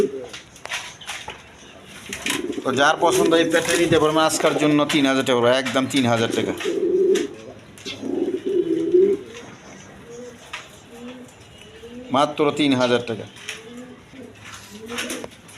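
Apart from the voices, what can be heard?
pigeons cooing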